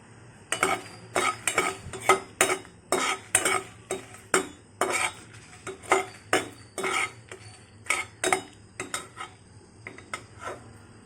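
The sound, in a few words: red chilies frying and being stirred in a pan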